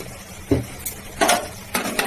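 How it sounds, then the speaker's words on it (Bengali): Potato and eggplant are stirred in a frying pan, with a few distinct scraping strokes of a utensil against the pan over a soft sizzle. The strokes are close and spaced irregularly. "এবার একটু নাড়াচাড়া করে নিলাম"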